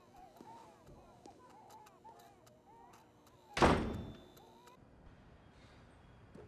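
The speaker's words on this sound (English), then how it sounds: "Slam the door." A house door slams shut with a single loud, sharp bang near the middle, heard after quieter indoor talk and fading into a soft room tail.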